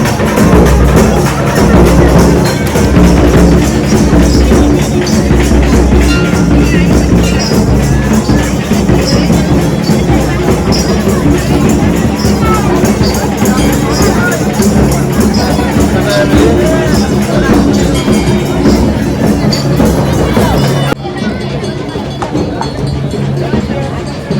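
Dense crowd hubbub inside the Marai Patan temple during its fair, a continuous loud babble of many voices with shuffling and movement throughout, dropping slightly in level near the end.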